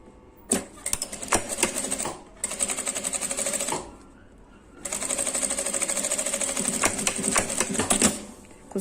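A sewing machine stitches seams on fabric for a small essential-oil holder, in two loud, close bursts of rapid rattling stitches separated by a brief pause.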